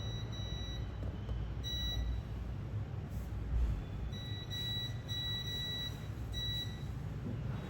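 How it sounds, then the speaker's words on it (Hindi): Continuity beeps from a multimeter probing three capacitors wired in parallel on an iPhone display circuit board, steady high tones sounding repeatedly in several short and long bursts over a constant background hum, with no talking. "ये भी एक कैपेसिटर है, मतलब टोटल 3 कैपेसिटर पैरेलल से लगे इस लाइन में, तो तीनों के तीनों बीप कर रहे हैं"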